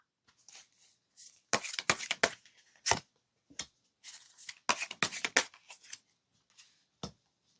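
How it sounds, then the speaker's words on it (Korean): Tarot cards are shuffled before a draw, giving sharp papery riffles and slaps in irregular bursts with short pauses between, close by and with no talking. "그 사람의 현재 마음에 대해서 카드를 뽑아보도록 할게요"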